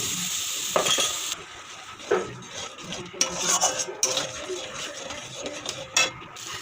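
Spice masala cooked with yogurt in a kadai for raw banana kofta, with a soft steady sizzle under repeated metal spatula scrapes and clinks against the pan, close up, no talk.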